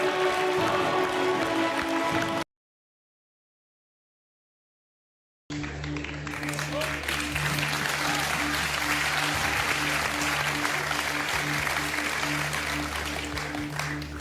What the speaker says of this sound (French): Applaudissements pour Laetitia